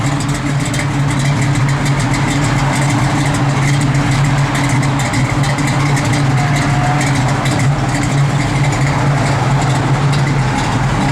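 A 1968 Pontiac Firebird convertible idles in a steady, loud, close drone, its white top going up with no distinct motor whine standing out above the engine.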